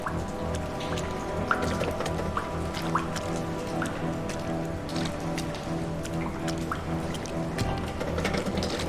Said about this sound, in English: Can't go any faster in this sludge water.